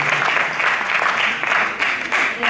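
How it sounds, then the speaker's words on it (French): An audience breaks into sustained applause and cheering, a dense wash of clapping that swells and ebbs for a few seconds with no speech over it. "plus d'acclamations pour eux"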